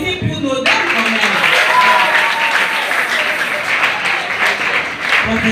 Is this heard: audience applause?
yes